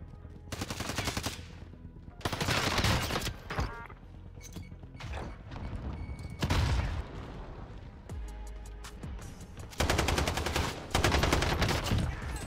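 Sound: F2000 gunfire in video game Warzone

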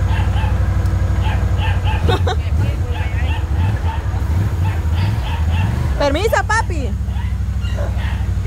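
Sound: dog barking

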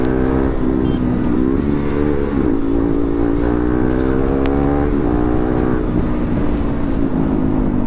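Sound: KTM Duke 390 motorcycle with aftermarket exhaust

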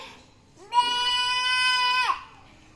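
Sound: child imitating goat bleat

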